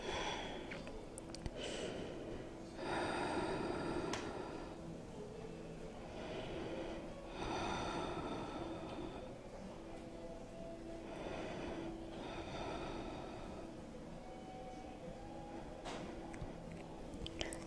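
Slow breaths drawn in and pushed out while holding a deep forward fold in a Kripalu-style flow yoga class, with several long, soft breathy swells rising and fading over a faint low background.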